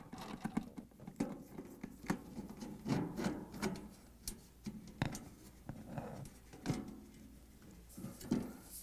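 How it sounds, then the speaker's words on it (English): A Phillips screwdriver backs screws out of the rear access panel of an LG/Kenmore appliance, making quiet, close scraping turns and irregular small clicks and taps, with no talk. "I'm going to use a Phillips screwdriver, and we're going to take them one by one out."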